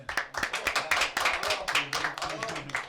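A small group claps for Johan in a home setting, the uneven hand claps loud and close, with voices talking over them throughout.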